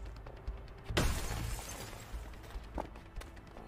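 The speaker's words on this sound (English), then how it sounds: "Sounded like sugar glass" Sugar glass shatters in the A Way Out video game: one sudden bright crash at about one second, with a short tail of scattered debris over low background ambience.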